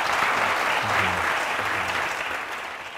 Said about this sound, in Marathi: माझी इच्छा आहे की कमीत कमी यासाठी खूप टाळ्या लोकांनी वाजवाव्या.